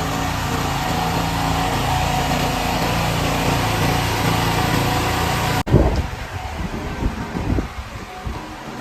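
A motor machine hums steadily inside a building, then cuts off abruptly partway through, leaving quieter rustling and knocks.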